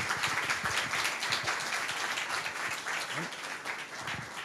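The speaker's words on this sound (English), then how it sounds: "I'd like to ask for a big round of applause to Professor Ingebret Fjelde again" Lecture audience gives a round of applause for a visiting professor, a lively steady clapping from a moderately sized crowd, close and continuous.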